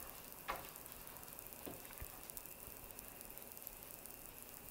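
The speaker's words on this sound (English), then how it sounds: "I'm just going to stir this all together." Chopped parsley is stirred into mussel stuffing in a pan, with a faint steady sizzle and a few soft scraping strokes.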